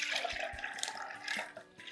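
Water drains and trickles from soaked chana dal, a faint, soft splashing and dripping close by with a few small plops, brief and without talking.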